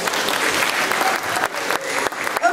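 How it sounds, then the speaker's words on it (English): An audience at a live music concert applauds, a steady, loud wash of many clapping hands that fills the space, with a few sharper individual claps standing out near the end. "Please give yourself a round of applause."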